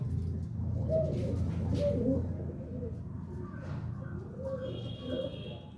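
Low, throaty pigeon coos repeat several times against a steady background hum, with a faint voice briefly in the distance.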